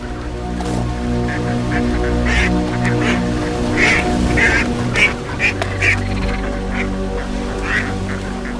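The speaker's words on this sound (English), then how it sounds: "We watch with curiosity the introduction of wild ducks to the reservoir" Wild ducks on a reservoir in Bulgaria quack repeatedly in a lively chorus, several calls overlapping over a steady low background hum.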